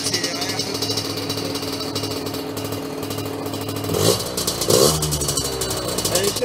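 A warm motorcycle engine, just fitted with new rock-wool muffler packing, idles steadily, then revs up twice in short blips before settling back, loud and close, with speech-like sounds mixed in.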